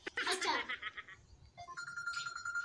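A phone ringtone plays as a clear repeating electronic melody after a burst of a voice, fairly faint and close, with the tones stepping up in pitch.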